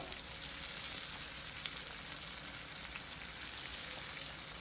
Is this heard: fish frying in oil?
yes